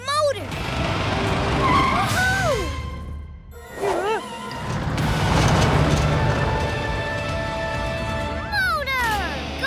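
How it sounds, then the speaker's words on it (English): A cartoon motor revving and zooming, with engine whine sweeping up and down and skidding, tire-squeal sounds in bursts across the clip, loud and busy with a short gap in the middle. "We have a motor."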